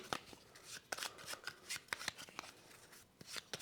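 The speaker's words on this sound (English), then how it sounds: "I'm going to sort of give these a shuffle, and as I'm shuffling, I'll flip some of them over" Double-sided cardboard scoring tiles from a SETI board game, four of them, shuffled and flipped by hand, giving a run of soft, quick rustles and light slaps close up, with no talking.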